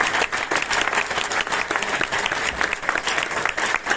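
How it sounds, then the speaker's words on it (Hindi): An audience claps at a global literary festival held at Marwah Studio in Noida, with dense, steady applause that fills the whole stretch without a break. "तो ताली बजा के दिखाइए कि आप कितने होशियार हैं।"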